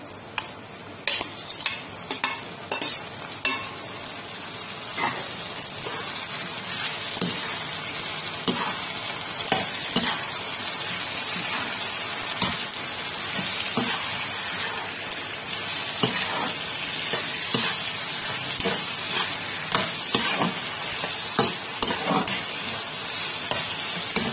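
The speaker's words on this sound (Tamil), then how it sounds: "தக்காளி பழம் கொஞ்சம் நேரம் வதங்கட்டும்." Tomatoes fry in a pan for a dried-fish thokku, giving a continuous bright sizzle and hiss with frequent scraping taps from a spoon stirring them close up.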